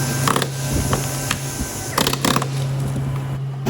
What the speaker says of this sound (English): And then we're going in there and chiseling it out.